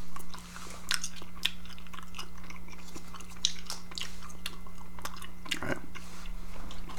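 Gum chewed close to the microphone with soft wet clicks and smacks in an irregular rhythm over a low steady hum, with a brief spoken phrase near the start.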